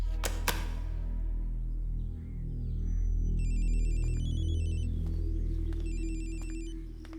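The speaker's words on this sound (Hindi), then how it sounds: "कोई जोश का फोन है, तुमसे बात करना चाहता है।" A phone ringtone chirps in two repeated electronic bursts over a loud, low background rumble indoors, following a couple of sharp clicks at the start.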